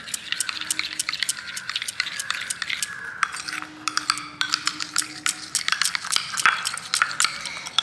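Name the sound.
mixing aloe vera gel into a homemade heel cream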